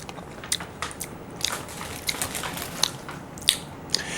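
Crunchy bites and chewing of sweetened dried fish, close to the mouth, with irregular crisp cracks and snaps repeating over a few seconds.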